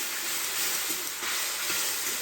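Paneer frying in a pan for a home-cooked lunch, a steady close hiss of sizzling oil with a few soft pops and crackles scattered through it and no talking.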